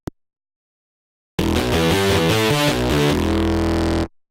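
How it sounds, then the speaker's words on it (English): Heavily distorted bass synth with an effect engaged, a loud, gritty sustained line playing a rhythmic pattern for under three seconds after a brief click and silence, then cutting off abruptly. "So I have this bass sound. And it already has distortion on it, right?"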